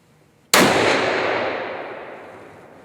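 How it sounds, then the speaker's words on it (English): One loud rifle shot cracks suddenly at an outdoor range during a 100-yard test, followed by a long fading reverberation that rolls on for over two seconds. "we're going to take a shot at 100 yards"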